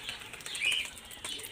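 A pigeon flaps its wings in a short flurry of soft rapid beats, close by, with faint chirps around it.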